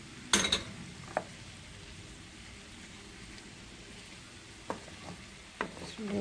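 Browned meat for a forest kebab goes back into the pan, giving a soft steady sizzle under a few sharp clatters of stirring, quiet and close, with no talk.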